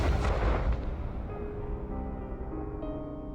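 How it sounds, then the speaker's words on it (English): A gunshot in the game Night in the Woods lands as one loud, deep boom that rolls into a long fading echo while a quiet tonal drone carries on underneath. "a gunshot is heard."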